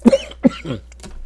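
Two sharp, harsh coughs in quick succession, close and fairly loud, followed by a short throat-clearing rasp and a faint breathy exhale.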